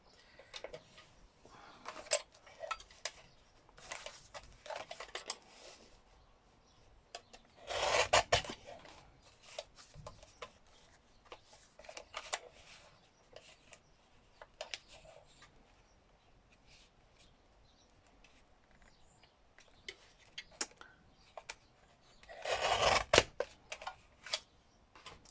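Scissors trimming paper among papers and ephemera on a desk, with scattered crisp snips and paper rustles at close range. Two louder bursts of handling stand out, and no one talks.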